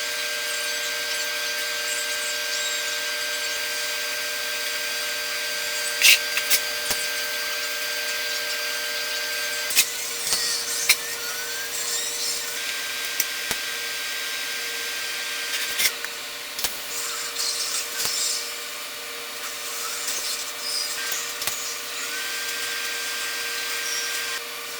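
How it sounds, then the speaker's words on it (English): Welding the flange portion of a turbo merge: a steady high hiss and crackle with tonal hums underneath, punctuated by occasional sharp pops and clicks, close and continuous without talk. "So we'll go ahead and weld this piece up completely."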